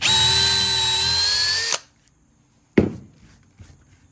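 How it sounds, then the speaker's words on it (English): A power drill bores a 5/16-inch hole in wood, whirring loud and steady at high speed, then cuts off abruptly; after a short silence a sharp knock and a few fainter clatters follow nearby. "I'm going to hold my drill a little bit off."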